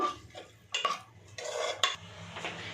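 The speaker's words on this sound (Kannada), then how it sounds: "ಒಂದು ಸಾರಿ ಇದನ್ನೆಲ್ಲ ಚೆನ್ನಾಗಿ ಮಿಕ್ಸ್ ಮಾಡ್ಕೋಬೇಕು" A spoon stirs a mixture of peas and cauliflower in a pot, with scraping, clinking strokes in irregular bursts, close and fairly quiet, no voices.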